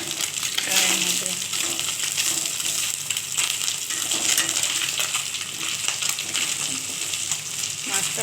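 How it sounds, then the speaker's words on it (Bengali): Frozen morola fish fries in a pan of hot oil, giving a steady, close crackling sizzle that runs without a break, with faint scraping and low background sounds underneath. "মাছটা প্রায় আমার ভাজা হয়েই গেছে, ভালো করে ভাজতে হয়"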